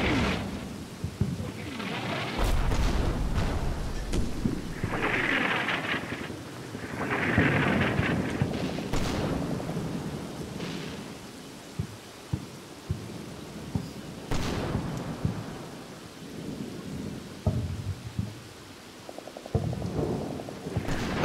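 Artillery fire in the wargame Combat Mission: Battle for Normandy: deep, rolling booms rumble like distant thunder, with repeated muffled impacts and sharper thuds spaced irregularly across a long stretch, and no talking.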